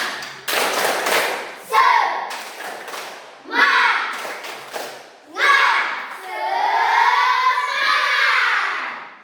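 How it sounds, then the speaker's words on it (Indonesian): Classroom pupils doing a rhythmic spirit clap routine, bursts of loud group clapping in patterned sets separated by short pauses, with children chanting and shouting along. "Tepuk semangat."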